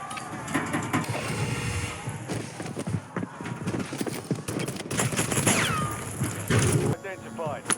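Gunfire in Call of Duty Warzone gameplay set in Verdansk, rapid bursts and scattered shots crackling through busy in-game action, with bits of game voice chatter mixed in.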